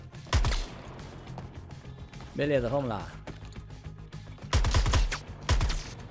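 Bursts of rapid gunfire from the game Suicide Squad: Kill the Justice League on PlayStation 5 crackle at the start and end, with a voice talking in between.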